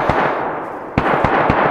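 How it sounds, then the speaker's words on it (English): Repeated gunshots in the DayZ video game, with several sharp cracks close together over a dense, noisy background. "Gunshots. Lovely."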